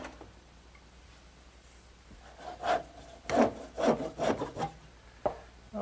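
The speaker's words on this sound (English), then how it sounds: "now I'm ready to cut it to length" A wooden column being sawn to length in a woodworking shop: quiet at first, then a run of rough rasping strokes with short pauses, close and fairly soft, no talk.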